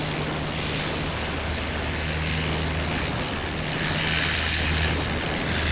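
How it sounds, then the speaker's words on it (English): A 1957 Piper PA-22/20 Pacer flying at a short takeoff and landing event in Jennings, Louisiana, its propeller engine droning steadily at a distance under broadband wind-like noise, with a low hum rising slightly near the end. "I'm going to say that is a Piper Pacer."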